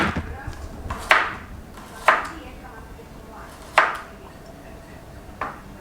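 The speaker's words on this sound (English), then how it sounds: "bawang putih dicincang" Garlic being chopped for Italian bruschetta: four sharp knife strikes on a cutting board at irregular intervals, close and fairly loud over a low background hum.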